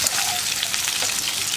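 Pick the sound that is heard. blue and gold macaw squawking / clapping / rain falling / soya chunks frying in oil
soya chunks frying in oil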